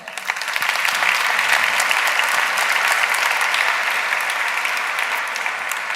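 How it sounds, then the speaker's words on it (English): Warm audience applause welcoming Jaime Sastre to the stage at an industry event, a dense, steady wash of many hands clapping that holds loud for several seconds and eases slightly near the end, with no talk over it. "So please welcome with a warm applause"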